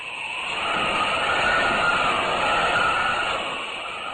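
A steady, loud rumbling roar of a train running on tracks, a 1940 radio drama sound effect, sustained throughout with no speech.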